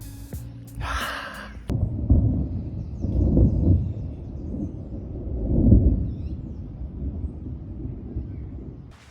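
Low, rolling thunder rumbles in waves through the whole stretch, swelling twice, after a brief breathy sound at the start, near La Catedral, Colombia.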